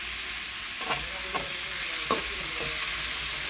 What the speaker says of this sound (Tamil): இப்போ இதுவும் கூடவே நான் அரிஞ்சு வச்ச கத்திரிக்காவை சேர்த்து வதக்கிட்டு போகிறேன்.